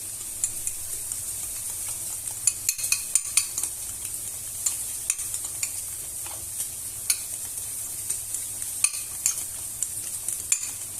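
Carbonara sauce is stirred in a hot pan, a continuous low sizzle punctuated by frequent light scrapes and clicks of the utensil against the pan.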